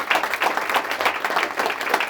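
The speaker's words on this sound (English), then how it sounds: "why don't we give him a round of applause?" Audience applause at a community development meeting with the mayor, steady clapping from a crowd throughout, moderately loud and fairly close, with no talk over it.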